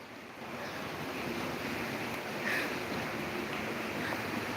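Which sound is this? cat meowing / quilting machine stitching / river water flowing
river water flowing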